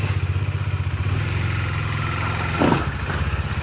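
A KTM motorcycle engine idles close by with a quick, even pulsing throb and a slight clatter, briefly rising for a moment before settling back, with no one speaking.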